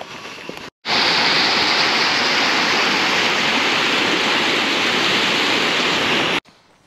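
River flowing in the rain on the West Highland Way, a loud, steady rushing roar that starts abruptly after a short pause and runs continuously before cutting off.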